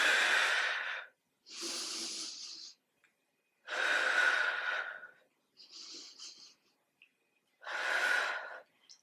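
Deep breaths during a Pilates reformer workout: five strong, rushing exhales and inhales in a steady rhythm, close and clear, with short quiet gaps between them and no talking.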